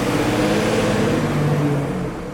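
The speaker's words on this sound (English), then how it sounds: "fire engine, don't want to get in the way of them." A fire engine passes along a London street in Soho, its engine giving a loud, close, steady rumble for about two seconds with no voices over it.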